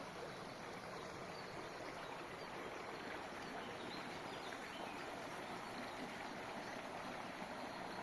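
Spring water flows steadily in a continuous, even rush in Chernivtsi Oblast, Ukraine, faint and unbroken throughout, with no voices.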